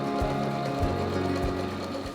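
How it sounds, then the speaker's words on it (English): Sewing machine stitching fabric pieces front to front along a line, a close steady mechanical whir with regular rhythmic thumps of the needle, running alone without talk. "What we want to do is sew it front to front down that line."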